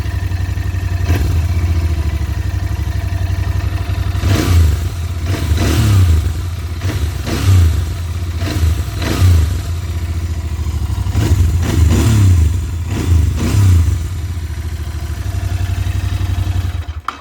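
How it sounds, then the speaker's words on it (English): A Royal Enfield Interceptor 650 BS6 motorcycle engine idles loudly up close, then is revved in a series of sharp throttle blips, each rising and falling back to the steady idle. "Let me whack the throttle."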